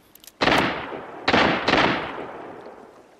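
Gunfire in the video game Arena Breakout: three loud, sharp gunshots ring out close by, the last two in quick succession, each trailing off in a short echoing decay.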